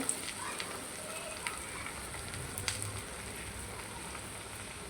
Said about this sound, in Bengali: অল্প অল্প করে নিয়ে ভেজে নিব।